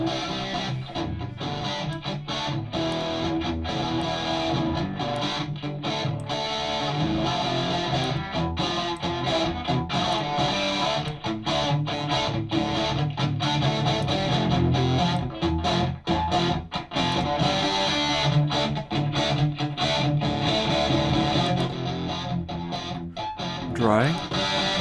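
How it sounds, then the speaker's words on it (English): Heavily distorted, gritty audio plays continuously and loudly. The crunchy saturated texture runs throughout, with a brief sweep near the end. "So now we're starting to get into the heavy distortion though."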